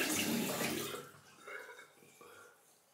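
Cold tap water rinses a heather briar shaving brush, a loud running splash at first that fades into softer dribbles and drips.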